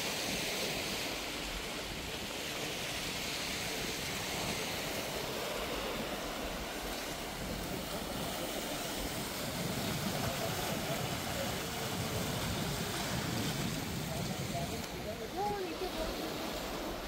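Sea waves wash steadily in a continuous, moderately loud surf roar mixed with wind noise, with faint voices in the background.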